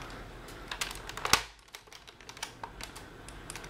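An Air Zone 8 dart blaster, stock but missing its turret and shoulder stock, gets primed with soft clicks and then fires with one sharp snap, followed by light plastic clicking.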